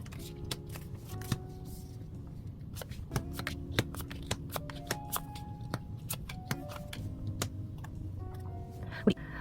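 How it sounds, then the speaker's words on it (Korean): Tarot cards are shuffled, slid and flipped open on a table, producing close, crisp papery flicks and taps with irregular rhythm over a soft background hum, and no one speaks. "그럼 카드 오픈해 보도록 하겠습니다."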